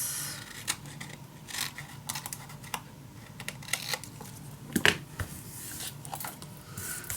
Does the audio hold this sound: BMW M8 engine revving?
no